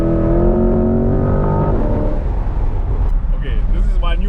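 An imported Corvette C8 launching in a 0-100 km/h run, a loud engine note climbing steeply in pitch through the first seconds before a gear change drops it back to a rougher roar, with voices reacting over the top.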